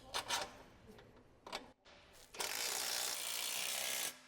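A socket wrench ratchets on an Acura MDX control arm bolt under the vehicle, with a few short clicking bursts followed by a longer steady ratcheting run, close and quiet, with no talk.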